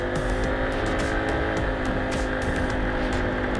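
An FKM Slick 150 motorcycle drones steadily as it accelerates up a hill, loud and close with constant wind buffeting.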